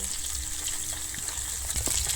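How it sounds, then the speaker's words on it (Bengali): Climbing perch (koi fish) fries in oil with a constant close-up sizzle, a dense bubbling hiss with small pops scattered throughout. "মাছটা আমি কিন্তু খুব বেশি এখানে কড়া করে ভাজবো না আমি মোটামুটি হালকা লাল করেই আমি ভেজে নেব"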